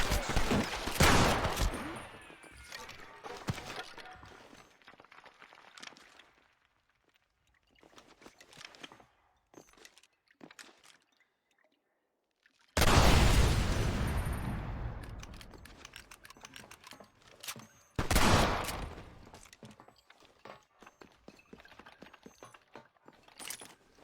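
A gunfight in the western video game Red Dead Redemption brings loud bursts of shots in two heavy clusters, separated by quieter stretches of scattered clicks and mechanical sounds.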